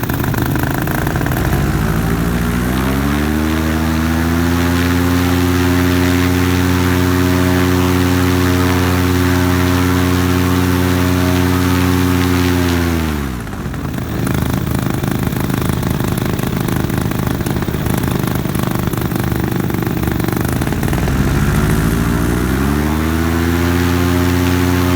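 A paramotor engine, freshly cleaned carburetor, runs loud and close with a steady drone, revving down sharply around the midpoint and then climbing back up, later dipping and rising again.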